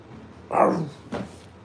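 A dog gives two short, deep barks close by, the first louder and longer, the second a quick follow-up, with quiet room noise around them.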